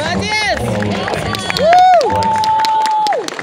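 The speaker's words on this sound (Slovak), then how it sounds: "Jeszcze aplauz." An audience applauds at a kettlebell long-cycle competition, a crowd cheering and clapping as loud voices and a sustained high whistle-like tone ring over the noise.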